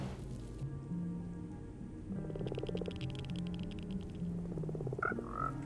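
Frogs croak in Minecraft Bedrock during a froglight farm build, a steady low pulsing of game croaks with a soft rain-like patter over it and a couple of brighter chirps near the end, no talking.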